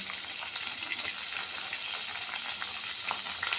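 Potato and tomato pieces fry in hot oil in a pan for an egg biryani, a steady close hiss of sizzling with faint crackles throughout and nobody talking.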